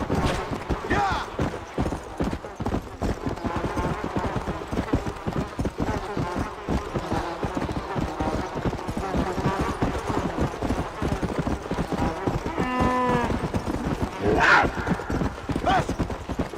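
Horse hooves clip-clopping in the Red Dead Redemption Undead Nightmare video game, a steady rhythmic trot running throughout, with a brief whinny near the end and a person talking over it.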